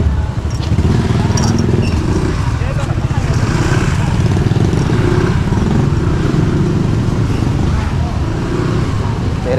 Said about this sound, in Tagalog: may motor, Chi, may motor.